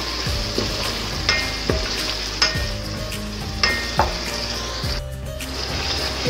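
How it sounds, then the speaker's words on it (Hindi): Masala sizzles and fries steadily in a pan for an Hyderabadi stuffed achari bhindi dish, with rhythmic scraping strokes of a spatula stirring it every second or so, close and fairly loud, no voices. "अब हम इसको अच्छी तरह से सारा मसाला भून लेंगे।"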